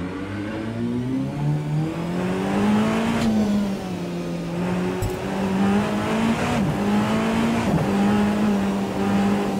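A race car engine in the video game Rennsport drones steadily at high revs, pitch rising and dipping slightly through gear changes, sustained and fairly close.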